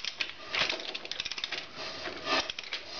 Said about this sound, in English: the air going past the rings there.